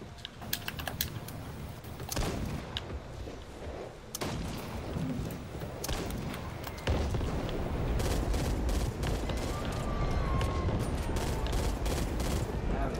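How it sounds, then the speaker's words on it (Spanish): Rapid bursts of Back 4 Blood gunfire and a sharp explosion crack out amid clattering keyboard taps, with a person talking intermittently over the noise. "Mira, una explosión allá."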